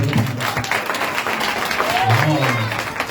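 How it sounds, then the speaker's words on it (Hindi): A church congregation breaks into applause at the end of a Hindi sermon, a steady wash of clapping in a reverberant hall with a voice talking over it. "मेरे पर जोरदार ताली बजाते"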